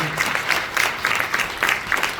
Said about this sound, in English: I'd like to ask everyone to give them another round of applause, please